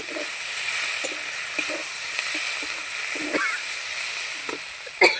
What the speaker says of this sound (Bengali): দেখো আমি অনেকক্ষণ ধরে কষে নিয়েছি, পুরো ভাজা ভাজা হয়ে গেছে।